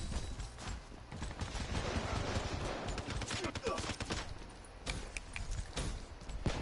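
Gunfire in Black Ops 3, including a Man-o-War rifle, pops as scattered single shots and short bursts within a busy, dense game mix, with people talking throughout.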